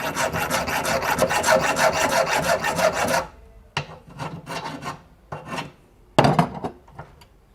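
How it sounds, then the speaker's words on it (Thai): A small metal part being trimmed with a hand file, for a noisy air conditioner fix: about three seconds of fast, continuous rasping strokes, then several shorter separate scraping bursts. Close and loud, with no talking. "ผมเอาไป ตะไบออกอีกสักนิดนะครับ"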